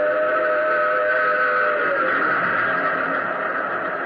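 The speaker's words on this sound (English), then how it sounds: "plunging from the tunnel's mouth, like some black, terrible monster, roared a train. It tore by me in a deafening roar." A train roars steadily out of a tunnel, a loud sustained rumble with a whistle-like tone early on, continuous and close throughout.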